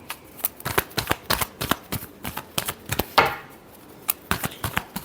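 Tarot cards being shuffled by hand, a rapid series of crisp riffling bursts and slaps close up, with a longer cascading riffle midway and no talk.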